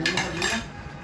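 Metal spoon clinking against dishes: a few quick, close clatters of cutlery on crockery, lasting about a second.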